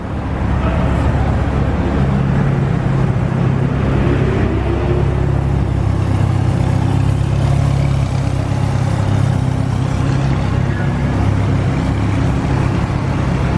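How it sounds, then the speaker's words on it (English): McLaren supercars roll out of a parking garage, their engines producing a steady, loud, echoing rumble that holds throughout with no talk over it. "Got the McLarens rolling out."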